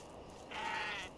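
A goat in a video game gives a single short, nasal bleat lasting about half a second, fairly clear over a low background hum.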